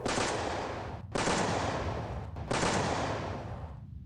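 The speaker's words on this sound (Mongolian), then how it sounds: "хоёр сумангийнхан сүүлчийн хүндэтгэл илэрхийлэн 3 удаа нэгэн зэрэг буудаж яслав" A funeral salute of three rifle volleys fired at the same moment during the Khalkhin Gol war comes as three long, rolling bursts of gunfire, each booming and echoing before the next.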